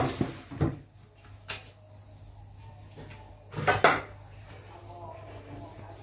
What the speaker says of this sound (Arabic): معايا الصاج بتاعي اهو مدهون، هحط فيه